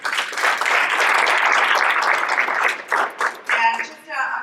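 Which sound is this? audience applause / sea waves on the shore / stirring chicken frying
audience applause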